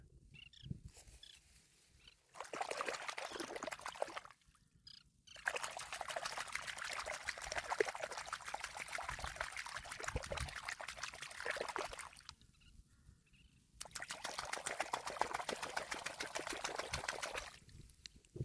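Water pouring and trickling steadily while rice plant roots are washed outdoors, in long continuous runs broken by short quiet pauses, heard close.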